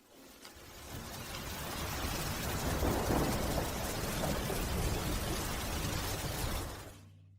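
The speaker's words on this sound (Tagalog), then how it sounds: "Umuulan sa labas." Rain falls steadily outside, a dense wash of hiss and patter that swells in after a quiet start, holds evenly, then fades away at the end, with no voices.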